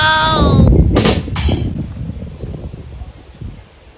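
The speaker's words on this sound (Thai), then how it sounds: "ลมแรงมาก ๆ นะครับ" Strong wind blows outdoors and buffets the microphone with a loud, low, rumbling roar that surges and eases. A few short voice-like bursts sit near the start.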